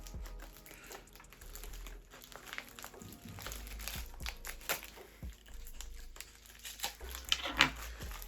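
Packaging from a lost Ukrposhta postal parcel is opened by hand, giving close, quiet crinkling and rustling of plastic and paper with scattered small clicks and taps.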